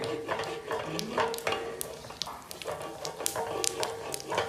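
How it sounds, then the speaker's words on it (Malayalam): Mustard seeds pop and crackle in hot oil in a stone pot, quick sharp bursts scattered over a steady sizzle, close up. "കടുകൊന്ന് പൊട്ടിക്കോട്ടെ"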